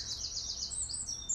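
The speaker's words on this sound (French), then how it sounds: "C'est sympa les oiseaux" Birds chirp and tweet in a series of quick, fairly clear calls, several overlapping, with no talking, at a quiet outdoor spot on the grounds of the Château de Monte-Cristo.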